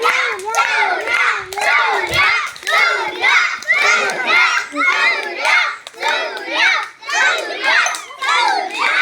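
Rhythmic clapping mixed with loud cheering and shouting from children and onlookers at a children's race, voices close and constant throughout.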